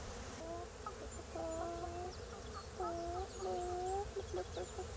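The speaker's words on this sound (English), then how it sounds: "the rooster is saying that sun is coming up." A rooster crows several times in a row, fairly close and clear, over a steady background hum.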